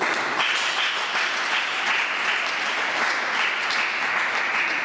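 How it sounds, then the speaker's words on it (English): An audience at a school talk applauds steadily, a dense wash of many hands clapping at even volume for about five seconds with no voices over it. "Round of applause to Nathaniel, please."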